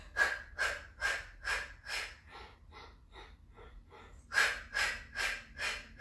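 Rhythmic breathing in and out during a beginner Pilates workout, with arm pumping: a steady series of close, airy breaths, several strong exhales at the start and end with softer ones in between, no talk.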